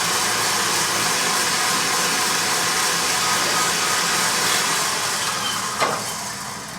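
Stand mixer whipping unsweetened cream for a salted caramel pudding topping: steady, close whirring motor hum with a broad airy hiss, running continuously, a small clunk near the end.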